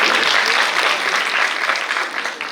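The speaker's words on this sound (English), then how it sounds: "I think she deserves a round of applause" A seated audience at a rheumatology presentation gives a presenter a short, dense round of applause that fades slightly toward the end.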